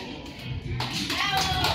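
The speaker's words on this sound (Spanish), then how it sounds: "Muchas gracias y fuertes los aplausos." Applause from a crowd at a quinceañera celebration, a brief burst of clapping that swells and grows denser partway through, with a faint murmur of voices underneath.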